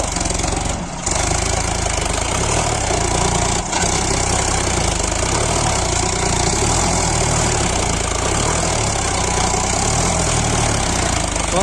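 A Sonalika DI 745 tractor engine idles steadily and loudly close by, a continuous diesel rumble with two brief dips early on and no one talking.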